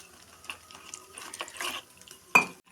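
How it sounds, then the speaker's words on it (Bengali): Pakora batter is mixed with water in a bowl for crispy chilli fritters, making soft, close stirring and scraping sounds with a few light clinks and a sharper knock near the end, with no talk. "এবার আস্তে আস্তে করে জল দিয়ে ব্যাটারটা গুলে নিচ্ছে"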